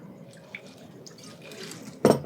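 Ed Hamilton's coffee liqueur is poured as a float on top of a drink, giving a soft, faint liquid trickle followed by a sharper splash near the end, close by and without talk.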